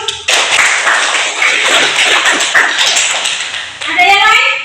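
Applause in a classroom: a brisk burst of many hands clapping together, close and lively, fading at the end as a voice speaks.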